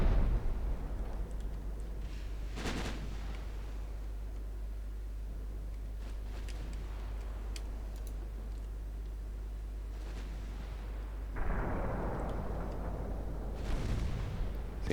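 Warship main guns firing in a naval battle game, several heavy booming blasts spread across the stretch, with loud reports near the start and late on over a constant low engine rumble.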